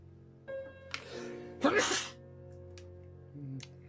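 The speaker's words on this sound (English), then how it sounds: "Ooh, gonna sneeze." A single close sneeze bursts out after a short hitching breath, loud and sharp against a faint background hum of the game Toxic Crusaders.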